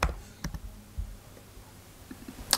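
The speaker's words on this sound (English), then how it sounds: "So hit Command Spacebar, type Displays." A few scattered keystrokes on a Mac keyboard, sharp quiet clicks with gaps between them, close by and faint overall.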